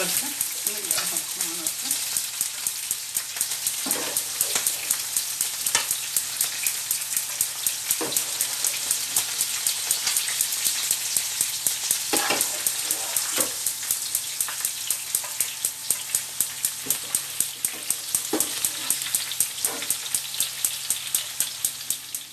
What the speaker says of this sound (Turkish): Ciğerimiz kızardı. Bu tarafta da patatesini kızartıyorum.